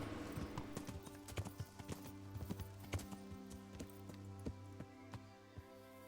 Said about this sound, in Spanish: Oye, ese es el caballo de la vez pasada.